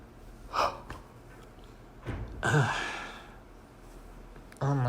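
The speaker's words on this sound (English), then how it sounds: "I think my brain is just conditioned to yawn whenever I do these." A person yawning, with a few breathy drawn-out exhales and gasps spread over several seconds, close and fairly soft, separated by quiet pauses.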